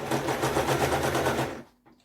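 A sewing machine stitches through layered peplum and crinoline pieces in a fast, rapid run of needle strokes lasting about a second and a half, then stops abruptly, close and clear with no talking.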